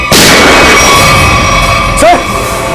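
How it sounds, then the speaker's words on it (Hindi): A single loud gunshot cracks sharply at the start and rings out, followed by a brief secondary bang or ricochet-like sound near the end, in a tense crime-drama scene. "सर, गोली चली यहां से।"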